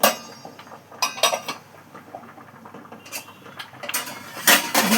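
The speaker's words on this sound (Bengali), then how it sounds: "একটু সর্ষের তেল দিয়ে নিলাম, দিয়ে এটা আমি আবার ঢেকে দিচ্ছি" A cooking pot is covered with its lid, giving a few sharp metallic clinks and clanks scattered over five seconds, with a final louder clatter at the end. No one speaks.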